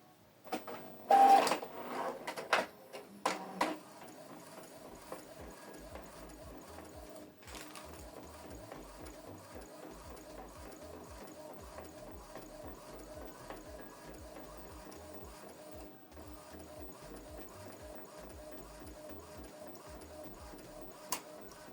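An Epson EcoTank ET2876 printer printing a photo: a few loud clunks and whirs at the start, then a long steady rhythmic mechanical chatter of the print head at moderate level with no voices.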